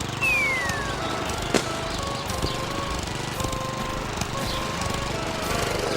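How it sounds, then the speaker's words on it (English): A gasoline lawn mower engine runs steadily at a moderate distance, a continuous rough drone with faint clicks and knocks over several seconds. "Lawnmowers make a lot of air and noise pollution."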